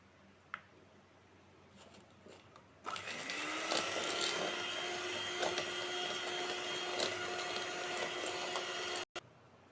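An electric mixer beats egg whites with sugar toward stiff peaks for a tea cake, starting abruptly after a quiet pause and holding a steady whirring motor drone close by, then cutting off sharply near the end.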